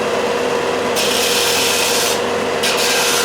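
A Ferrex Aldi disc and belt sander shapes a guitar nut, giving a steady, close grinding rub with a motor hum beneath and brief shifts in hiss as the piece is pressed and lifted.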